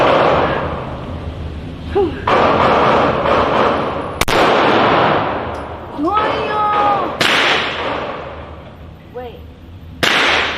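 Several gunshots ring out at an indoor gun range, sharp cracks spaced a couple of seconds apart with loud echoing tails, while people talk and exclaim between the shots.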